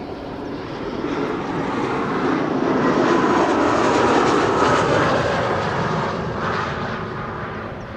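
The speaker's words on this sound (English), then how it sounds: "KLM flight 1774 arriving from Berlin is coming up from behind me, and you are able to pick it up on the mic" A KLM airliner arriving at Amsterdam Schiphol from Berlin passes close by with a loud, full jet roar. The sound builds to a peak midway and then eases slightly, with no voices over it.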